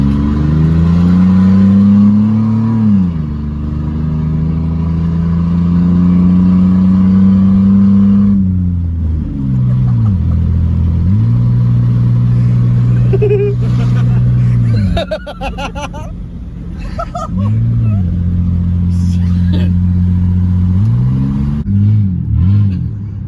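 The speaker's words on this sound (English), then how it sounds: "Full throttle, bro. Full throttle." A muffler-less Chevy S10 engine roars at full throttle, loud and close, with rising and falling rev sweeps and repeated surges and drops across the whole stretch, plus a few short clatters.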